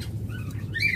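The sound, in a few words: doves in cages at a bird sale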